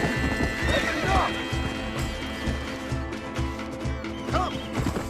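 A horse whinnies loudly twice over the clatter of galloping hooves in the video game Red Dead Redemption, with a second neigh near the end amid busy background noise.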